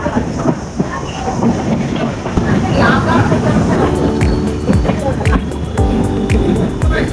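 Ratnagiri–Diva passenger train heard from on board, a loud rumbling run on the rails with rhythmic clickety-clack wheel beats and metallic clanks growing more distinct in the second half, with a voice talking over it.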